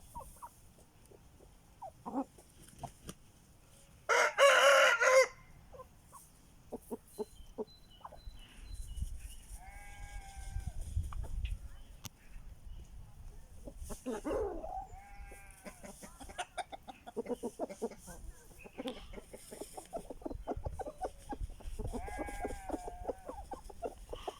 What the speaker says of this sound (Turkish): Tavuklarımıza bakın arkadaşlar dizilmişler şöyle kuru toprağa keyif içerisinde